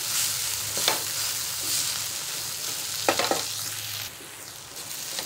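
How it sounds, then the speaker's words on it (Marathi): Gram flour and ginger garlic paste fry in a pan for paneer masala, a continuous loud sizzle with a few scraping stirs of the spoon and no talking. "बेसन आणि आलं लसूण पेस्ट त्याच्यामध्ये परतून घ्यायची मस्त।"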